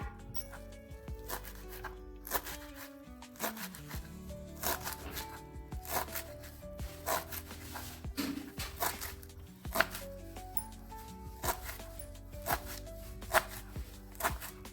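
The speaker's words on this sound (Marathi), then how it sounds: "तर आता आपण त्याला बारीक कट करून घेणार आहोत." Freshly washed coriander leaves are chopped finely with a knife on a board for coriander vadi, giving a steady run of quick, close taps and thuds with no talking.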